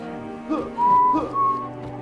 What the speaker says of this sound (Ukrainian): Хто свистить?